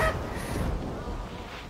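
Flock of magpie geese calling in theHunter Classic, a dense continuous chorus of honks and squawks over a low rumbling background, steady and moderately loud throughout.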